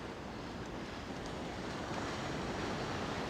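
Surf rolls onto a beach on the Great Australian Bight, a steady, faint wash of breaking waves with wind noise and no distinct individual crashes.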